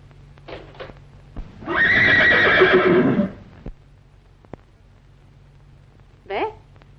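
A horse lets out a loud, close whinny lasting about a second and a half, with shorter snorts and calls before and after it and a soft background hum.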